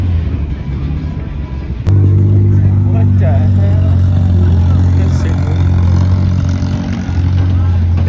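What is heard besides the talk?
supercharged Honda Odyssey engine revving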